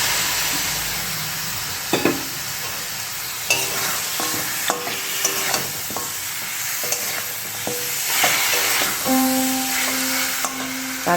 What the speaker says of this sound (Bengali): তারপরে এবার আমি দিয়ে দেবো মটনটা যে সেদ্ধ করে রেখেছি সেইটা।